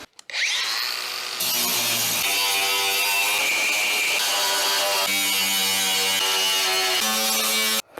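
Angle grinder fitted with an 80-grit flap disc grinding rust off the door of a 1979 Chevy square-body truck, a loud continuous abrasive whine held for several seconds with small dips in pitch as pressure shifts.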